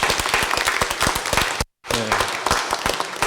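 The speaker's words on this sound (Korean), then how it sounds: "박수로 한번 환영하겠습니다" Church congregation clapping at a Sunday service to welcome four students, brisk rhythmic applause from many people with distinct individual claps, cut by a brief dropout before resuming with a low hum beneath.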